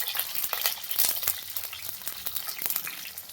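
Shallots, onions and garlic crackle and spit in hot coconut oil in a pan, a steady close sizzle of frying with sharp pops scattered throughout, no voices over it.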